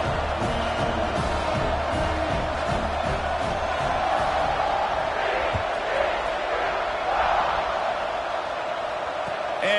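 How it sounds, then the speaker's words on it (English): Video game football stadium crowd roaring steadily throughout, a broad sustained cheer with swelling bursts, kept up under a commentary-style voice. "Do you think this crowd's going to get loud when their defense comes on the field?"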